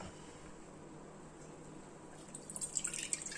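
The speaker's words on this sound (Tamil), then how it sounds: "இப்போ இந்த தண்ணியை நம்ம வடிகட்டிக்கலாம்." Water from soaked green gram being strained off, a soft trickle and drips building up in the last second after a quiet lead-in.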